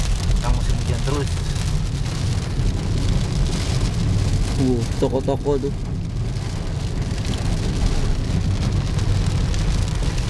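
Steady rain pours down outdoors on a street, a dense continuous hiss and patter that covers the whole stretch, with brief speech heard faintly beneath it.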